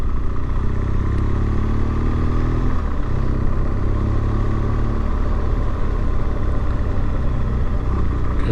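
A BMW R1200GS motorcycle cruising at a relaxed pace on a Yorkshire Dales road, its engine a steady low rumble mixed with wind noise throughout.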